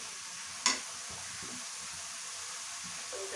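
Spinach stir-frying in a pan at low level, with a soft sizzle and a sharp clink of a utensil near the start, followed by faint stirring scrapes.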